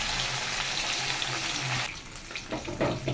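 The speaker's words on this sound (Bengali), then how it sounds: "অনেক বড় তাই একটা করেই ভাজতে হবে" Tilapia or katla fish, seasoned with salt and turmeric, frying one piece at a time in hot oil in a wok, giving a steady close sizzle that thins out and turns into scattered crackles and pops.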